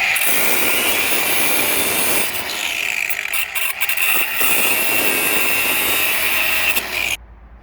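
A power tool saws through a long bolt on a 2014 Nissan Versa's suspension stabilizer link, a loud steady grinding whine lasting about seven seconds with a brief dip in the middle before cutting off abruptly.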